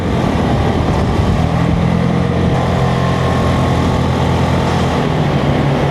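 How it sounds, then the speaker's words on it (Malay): An ADXTG 400 motor scooter climbs the winding corner roads up Genting with a steady, loud engine drone and a constant hum. Heavy wind rush rides over the engine and covers it throughout, and no one speaks. "Ni first time lah aku bawa motor skuter dekat Genting ataupun dekat apa, jalan corner-corner"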